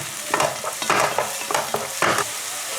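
Bell pepper and coriander stir-fried in a pan for pad thai, with soft sizzling under several quick scraping stir strokes in an uneven rhythm, close and fairly quiet.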